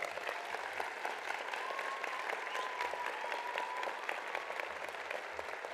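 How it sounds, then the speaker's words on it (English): A large crowd applauds at a law school commencement ceremony, with steady, even clapping throughout and the faint murmur of a voice underneath. "How about a round of applause for them?"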